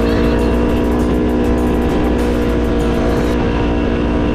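A car driving behind a touring motorcycle on a mountain road, heard as a loud, constant engine and road roar with steady tonal hum throughout, no speech.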